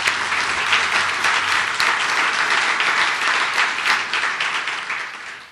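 An audience at an annual downtown development lecture in Wichita claps steadily and fairly loudly throughout, the applause thinning out at the very end.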